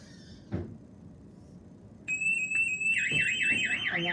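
A back door slides open with a thud, then a SimpliSafe home alarm blares a loud steady high tone that shifts into a rapidly warbling siren.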